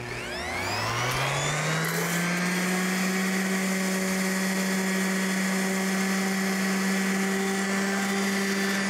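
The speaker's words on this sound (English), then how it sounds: "We're talking about sanding the edge and just softening up the edge." A power sander works along the edge of a wooden bench, softening the edge, in a steady, loud whine that holds constant after a brief spin-up, with no talking.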